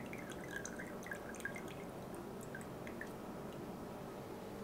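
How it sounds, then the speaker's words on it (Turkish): Green herbal oil being strained, with small irregular drips and trickles of liquid falling alone and quietly for several seconds. "Evet, yağını süzüyoruz böyle."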